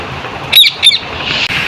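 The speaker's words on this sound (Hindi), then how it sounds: "दोस्तों ये देखिए हमारा तोता है।" A pet parrot gives two sharp, loud, high calls in quick succession, close by, over a steady background hiss with no speech.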